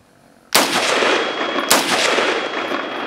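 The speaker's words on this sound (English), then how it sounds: "he's going to go ahead and shoot our target downrange a couple times." Two rifle shots are fired at a target downrange during body-armor shooting-position practice, each a loud, close crack followed by a long ringing decay, about a second apart.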